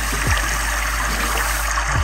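Tap water runs steadily over a cleaned red grouper (lapu-lapu) being rinsed out after gutting, a continuous close splashing trickle with no talking.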